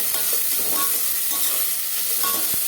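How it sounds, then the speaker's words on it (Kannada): Curry leaves, a couple of dry red chillies and onion frying in oil for drumstick sambar, a steady close sizzle with occasional stirring taps against the pan. "ಕರಿಬೇವು ಎಲ್ಲ ಹಾಕ್ಬಿಟ್ಟು ಒಂದೆರಡು ಒಣ ಮೆಣಸಿನ್ಕಾಯಿ ಕೂಡ ಆ್ಯಡ್ ಮಾಡ್ಕೋಬೇಕು ನೆಕ್ಸ್ಟ್ ಚೆನ್ನಾಗಿ ಫ್ರೈ ಮಾಡಬೇಕು"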